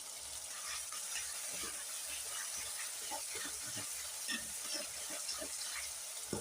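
Ginger paste sizzling in a hot pan, a steady close frying hiss with small crackles and the odd scrape of a utensil running throughout.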